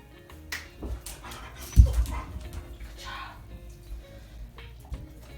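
Dog panting during basic obedience training, with quick breathy pants, a few soft whimpers and light movement thumps nearby, and one louder knock in the middle.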